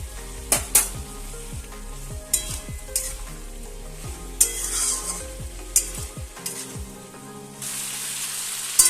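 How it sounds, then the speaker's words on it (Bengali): Vegetables with spices and a little sugar sautéing in a pan, a continuous sizzle under repeated scraping strokes and sharp clinks of a spatula against the metal, close and lively, without speech. "দেখো প্রায় আমি 7 মিনিট ধরে এটা কষিয়েছি"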